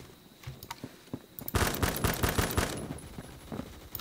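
K2 rifle in the video game Phantom Forces fires a fast automatic burst after a few scattered shots, dense cracking reports lasting about a second and a half, then trailing single shots.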